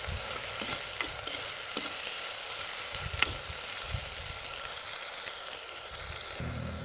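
Curry leaves, chillies and onions sautéing in a pan for a drumstick gravy, giving a continuous close sizzle with occasional scrapes and stirring clinks.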